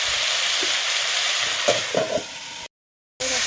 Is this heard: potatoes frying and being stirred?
yes